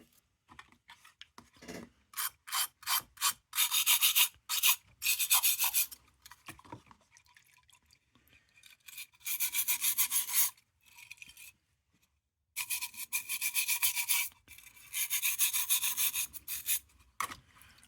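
A wire brush scrubs rust off an old lantern in bursts of rapid, scratchy back-and-forth strokes, close and fairly quiet, with short pauses between passes.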